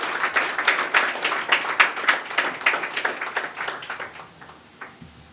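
An audience applauds a guest at an English academy's tenth anniversary celebration, a steady burst of many hands clapping that gradually thins and fades out over about five seconds.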